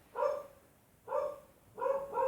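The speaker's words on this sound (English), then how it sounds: "Just wait for my dog to stop barking." A dog barks three times at a moderate distance, each bark short and tonal, with pauses between them.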